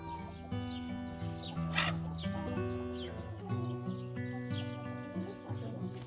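Old hens and young chickens with two roosters cluck softly and continuously, faint and distant over a steady background hum.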